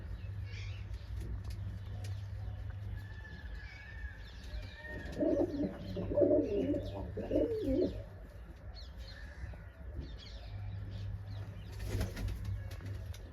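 Low, soft cooing of a pigeon at the nest with its hatching egg repeats in a steady rumble close by, with a brief louder burst midway and faint chirps above.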